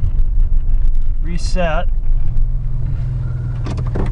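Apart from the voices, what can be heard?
Ford Ranger truck engine running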